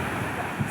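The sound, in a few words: large ocean waves breaking at a beach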